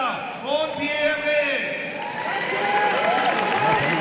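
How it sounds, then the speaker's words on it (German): A crowd at an MMA event applauds two fighters, a steady broad patter of clapping and some cheering that runs under an announcer talking throughout. "Hier Applaus für die beiden Kämpfer."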